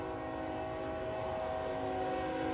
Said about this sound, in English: Honestly, I really love the sound of trains.